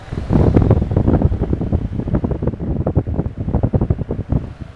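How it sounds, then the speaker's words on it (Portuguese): A Keppe Motor fan switched on and running at set speed gives a loud, steady rushing whoosh with rapid pulsing flutter, close and alone without voices. "Agora nós vamos ligar o Cap Motor na mesma velocidade."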